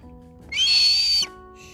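A captive hawk, a bird of prey, gives one loud, sustained high-pitched begging screech lasting under a second, close by and alone against a quiet room.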